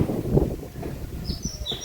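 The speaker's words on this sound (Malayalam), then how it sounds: "കളകളാരവം കേൾക്കുന്നുണ്ട് കേട്ടോ" Birds chirp outdoors in a few brief, thin calls toward the end, faint against wind and leaf rustle.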